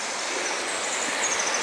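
Groves Creek rushes steadily beneath a railway trestle on the Englewood Railway between Woss and the Davie River, a dense continuous wash of flowing water heard up close with no voices.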